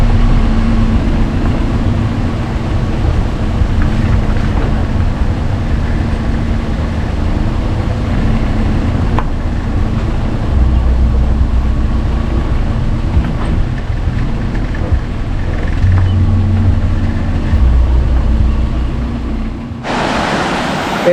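Lone Creek Falls near Sabie roars as a steady, dense wash of falling water, loud and unbroken for about twenty seconds with no voices, then cuts off abruptly at the very end.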